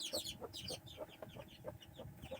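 Chicks peep in a series of soft, high chirps at a quick irregular pace, close by but faint, with no talking.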